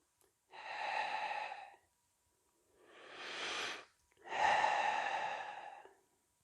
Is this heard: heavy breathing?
yes